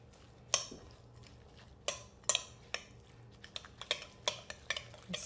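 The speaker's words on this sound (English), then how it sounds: "And then we'll stir this up." A seasoned sweet corn mixture is stirred in a bowl with a utensil, giving a series of close, sharp clinks and scrapes spaced irregularly over a quiet background.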